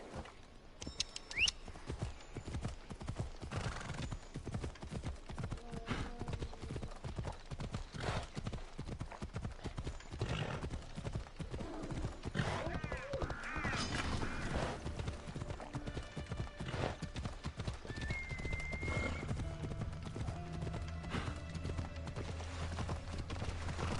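Steady clip-clop of a galloping horse's hooves in Assassin's Creed Odyssey, rhythmic and continuous throughout, with occasional distant snorts and ambient game sounds.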